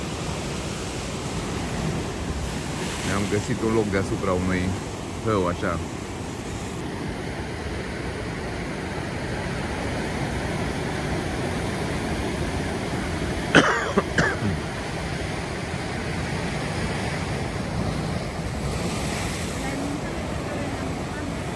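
Rough sea waves at Los Cristianos, Tenerife, make a steady, loud rush of surf that runs unbroken through the whole stretch while people talk over it.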